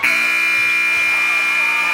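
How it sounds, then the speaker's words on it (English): A loud, sustained game-ending buzzer at a school sports match, a harsh steady electronic tone sounding alone for a couple of seconds. "giving the Sents the victory at the buzzer"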